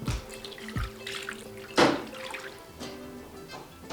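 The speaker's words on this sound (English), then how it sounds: "there's a line right here that you need to fill it up with water" Water runs and splashes into a Microjig table saw blade cleaner container on a workshop table, a steady pour with a few louder gushes and drips close by.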